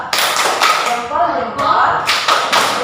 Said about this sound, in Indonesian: kita beri tepuk jempol untuk kelompok 2